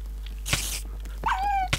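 A Minecraft puppy is killed in the game, letting out a brief yelp followed by a high, wavering whimper, close and clear with no talk over it.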